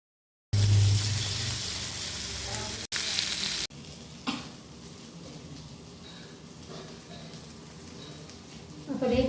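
Fish frying in a pan in oil: a loud, close, steady sizzle for about three seconds that drops abruptly to a quieter crackling hiss, with occasional small pops and scrapes.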